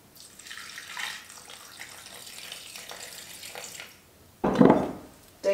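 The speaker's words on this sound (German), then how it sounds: "nochmal 200 Gramm wieder von eurem eiskalten Wasser dazugeben" Ice-cold water pours into a Thermomix bowl while making butter, a soft running trickle for several seconds, then a brief louder splashing gush near the end, with no talking.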